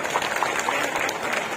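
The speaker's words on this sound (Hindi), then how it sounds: "ताली बजा दो एक बार बढ़िया।" A crowd at a political rally in the Pali Tanakhar assembly constituency breaks into applause, a dense, loud patter of clapping hands that carries steadily throughout.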